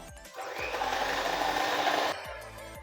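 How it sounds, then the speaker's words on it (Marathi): An electric beater whipping cream for tender coconut ice cream, a loud steady motor whir for about two seconds before cutting back to a lower hum. "परत आपण हे दोन मिनटं फेटून घेऊया"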